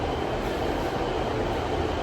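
Aboard a train on the line to Dawlish Warren in Devon, a steady, loud interior rumble of wheels and carriage noise holds unchanged throughout, with no voices.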